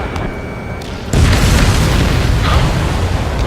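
An enemy transport explodes in the Ace Combat 7 video game, a loud booming blast that hits suddenly partway through and rumbles on under wind-like noise.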